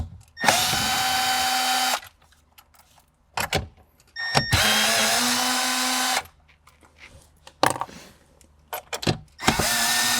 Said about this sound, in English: All right, next, here are our 4 10mm bolts. Let's get those removed.